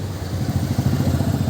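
A running Ashok Leyland BS-4 truck engine, with a fault in the accelerator pedal sensor wiring, gives a steady, loud, close mechanical rumble and clatter throughout, with no talk over it.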